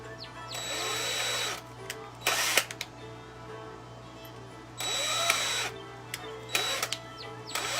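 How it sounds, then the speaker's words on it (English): A power drill whirs in several short bursts, spinning up and stopping with pauses between, close and fairly loud over a steady background hum. "to get the drill bit into the drill"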